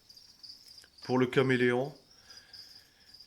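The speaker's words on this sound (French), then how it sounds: "Donc on a 2 boîtes de grillons." Crickets kept in boxes give a steady high chirping trill that runs throughout, while a voice briefly speaks over it in the middle.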